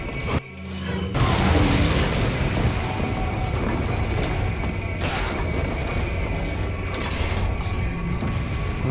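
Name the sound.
fire grenade exploding in video game Resident Evil 4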